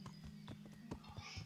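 Rhythmic clip-clop of horse hooves on a path in the medieval video game Kingdom Come: Deliverance, quiet steady footfalls over a low ambient hum.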